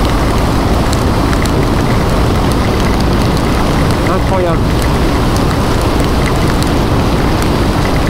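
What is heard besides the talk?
heavy rain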